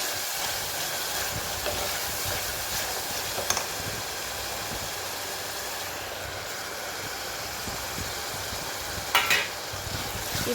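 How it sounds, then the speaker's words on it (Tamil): Ginger garlic paste and a handful of mint sautéing in hot oil, an even continuous sizzle and hiss held close for several seconds, with a faint clink of the pan near the end and no talking. "இஞ்சி பூண்டு விழுது சேர்த்ததுக்கப்புறமா நல்லா வதக்கிக்கோங்க"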